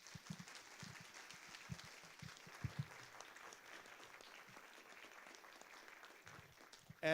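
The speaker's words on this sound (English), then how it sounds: "So a big round of applause." Applause from an audience at a citizens' assembly in a hotel venue, steady crowd clapping sustained throughout at moderate distance, with a few louder close claps.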